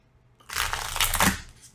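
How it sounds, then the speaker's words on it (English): A deck of tarot cards is shuffled close up in a quiet room: a single riffling burst of paper flicking that lasts about a second, then trails off, with no talking. "we're going to shuffle one more time"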